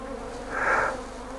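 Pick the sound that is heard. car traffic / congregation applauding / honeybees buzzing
honeybees buzzing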